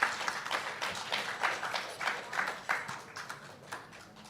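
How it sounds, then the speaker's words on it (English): An audience applauds at a national prize distribution ceremony for school toppers, with moderate, fairly even clapping that fades slightly toward the end. "Let's give her a round of applause."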